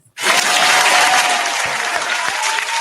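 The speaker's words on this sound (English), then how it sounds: "I gotta clap for that one." Hand clapping bursts in loud and close after a brief silence, a dense steady patter of claps sustained to the end with no talking over it.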